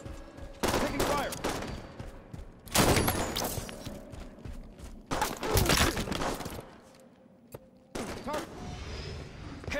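Halo 5 gunfire rattles in several loud automatic bursts, spaced a second or two apart with quieter gaps between, close and punchy, while game voices call out over the shooting.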